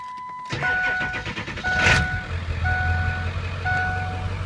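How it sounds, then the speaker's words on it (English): A 2002 Ford F350 4x4 diesel truck engine cranks and catches, settling into a low idle. Intermittent warning chimes beep in a repeating pattern, loud and close. "I'm going to start this truck,"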